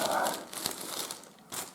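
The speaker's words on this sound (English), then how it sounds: "I'm going to be using the foil insulation. This one is 25 layers of foil and insulation," A roll of 25-layer foil and insulation is handled, giving soft crinkling and rustling that is fairly faint and close, with a brief louder crackle near the end.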